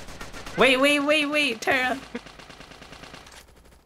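Rapid automatic gunfire crackles from a gun in the VRChat prison escape game, following a short spoken phrase and continuing as dense, fading bursts.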